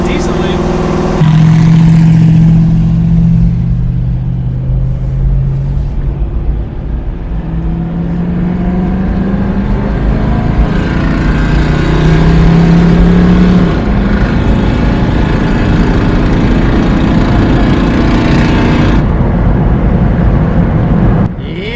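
An S10 drag truck with a junkyard LS engine and eBay cam pulls hard, its low engine note rising and dropping through several revving surges, loud and close inside the cab over rumbling road noise.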